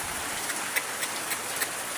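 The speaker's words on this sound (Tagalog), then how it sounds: "Lakas ng ulan" Heavy rain falling steadily in a flood-prone neighborhood, a dense continuous hiss with a few sharper drops standing out, fairly close and with no voices.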